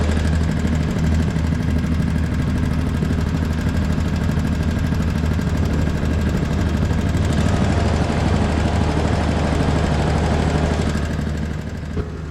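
A directional drilling machine boring for fiber conduit runs loud and continuous, a heavy diesel drone with rumbling, chattering texture close by.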